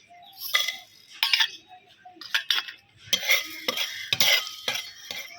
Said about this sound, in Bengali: এই গোটা মশলাগুলো কিন্তু একদম খুব কড়া করে ভেজে নিতে হবে যতক্ষণ না ফুটফাট শব্দ হচ্ছে